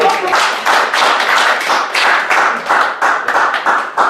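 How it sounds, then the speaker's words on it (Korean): An audience claps loudly and continuously for a speaker at a public speaking session, with dense close hand claps swelling in short waves. "저 용기에 대해서 박수 한번 보내주시죠."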